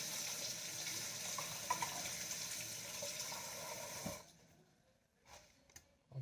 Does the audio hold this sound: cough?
no